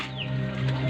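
A soft, low cooing from pigeons, brief and close, with a gentle rumbling tone and no speech.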